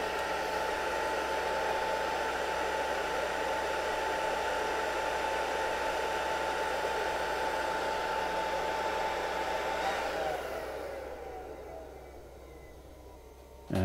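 Broadband whirring hiss of the cooling fan in a D-Link DGS-1100-10MP network switch, steady and fairly loud for about ten seconds before winding down to a much quieter hum as the switch boots.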